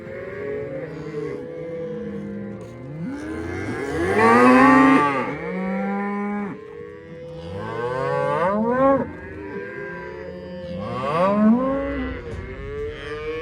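Several cattle moo repeatedly while being loaded for shipping, overlapping calls near and loud, with a louder chorus of lowing in the middle and more moos toward the end.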